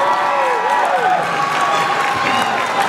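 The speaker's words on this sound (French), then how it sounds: "Qu'on peut applaudir très fort s'il vous plaît." A large audience at a French beauty pageant final applauds loudly and steadily, dense clapping mixed with crowd noise and a few shouts throughout.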